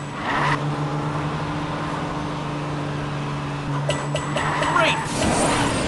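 Car driving in the game PJ Masks Hero Academy, a steady engine hum with sustained tones under in-game chimes and effects, with voices speaking over it.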